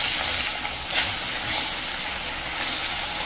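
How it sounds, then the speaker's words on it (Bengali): Small fresh fish, young rohu, frying in a hot kadai wok give a steady, close sizzling hiss that swells in two brief crackling bursts near the start, with no voices over it. "আর এদিকে কড়াটা গরম হয়ে গেছে, মাছগুলো ভেজে নেব"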